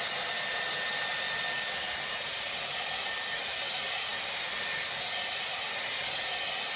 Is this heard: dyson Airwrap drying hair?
yes